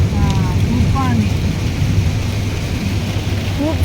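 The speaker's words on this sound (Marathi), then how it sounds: "खूप जास्त पाणी आणि खूप जास्त जोरात पाऊस आहे." Heavy rain pours down with a deep, continuous low rumble of thunder or heavy runoff, loud and constant, with faint voices mixed in underneath.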